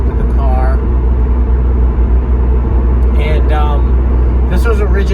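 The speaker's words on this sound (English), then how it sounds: "Since I'm missing some of the interior, you can hear a lot of the road noise" Loud, constant low road rumble inside a moving car with some of its interior stripped out, a deep droning roar with someone talking over it intermittently.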